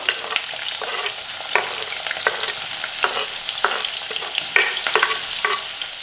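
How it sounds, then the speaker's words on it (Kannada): Chopped onion and green chillies frying in hot oil hiss loudly and steadily, punctuated by regular scraping strokes of a spatula stirring the pan, close up with no talking. "ಎಣ್ಣೆ ಕಾದ್ಮೇಲೆ ಕಟ್ ಮಾಡಿರೋ ಈರುಳ್ಳಿ ಮತ್ತು ಹಸಿಮೆಣಸಿನ್ಕಾಯಿನ ಹಾಕ್ಕೋಬೇಕು"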